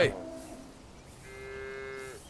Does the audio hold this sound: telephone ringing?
no